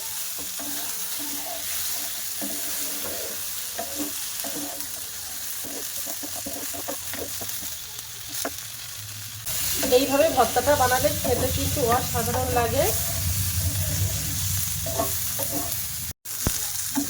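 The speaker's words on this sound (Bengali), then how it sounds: "তো দেখো আলু টমেটোগুলো সব ভাজা ভাজা করে নিয়েছি" Potatoes and tomatoes, with diced onion added, fry and hiss in a frying pan, with steady sizzling and stirring scrapes throughout; someone talks over it, and the sizzle swells louder in the second half.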